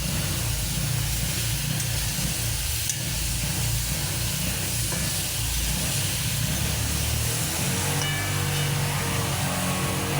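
Pumpkin pieces tipped into hot oil spiced with red chili powder, turmeric and salt, frying with a loud, continuous hiss and sizzle throughout, with a few faint clinks and shifts partway through.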